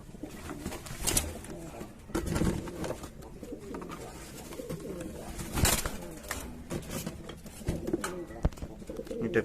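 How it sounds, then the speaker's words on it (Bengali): Blue Double Crested Saxon Shield pigeons, a male and a female kept indoors, give soft, repeated coos close by, with short rustles and bumps between them and quiet talk in the background. "এই হলো আমাদের নতুন পায়রা।"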